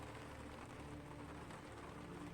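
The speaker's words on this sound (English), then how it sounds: "Rain hitting Sark's forehead." Rain from the video game The Horror at Highrook falls as a steady, dense patter, faint and continuous with no break.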